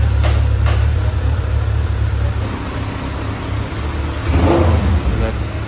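A 2024 Kawasaki ZX6R supersport engine runs steadily after its first service, a smooth, not overly loud low drone with a brief rev swell near the end, heard close with talk over it.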